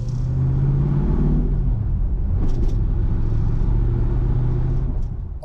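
A 1969 Ford Mustang Mach 1 V8 idles with a deep, steady rumble, close and loud throughout, with a few faint higher clicks over the low throb.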